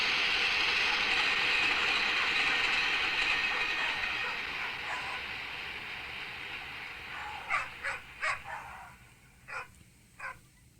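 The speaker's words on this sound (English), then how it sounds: "So it has this train going by at the very end of it" A train rumbles past at the close of a track, a broad steady roar that fades out, followed by a few short, sharp barks or clanks near the end.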